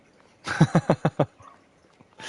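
An American-style tipper truck in Farming Simulator 22 lets out five quick, throaty bursts in a regular rhythm that resemble a dog's growls or barks, fairly close and standing alone, followed by quiet.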